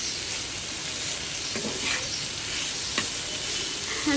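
Potatoes and shrimp fry in a pan with a dense, continuous sizzle, close and steady, broken by a few brief stirring scrapes and clinks, with no voices over it.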